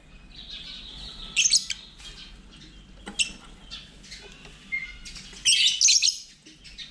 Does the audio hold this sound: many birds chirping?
yes